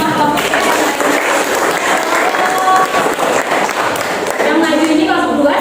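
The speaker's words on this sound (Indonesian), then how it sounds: "kita beri aplaus dulu untuk semua kelompok" A classroom of students applauds their fellow student groups in steady, loud clapping that lasts throughout, mixed with chatter and voices talking over it.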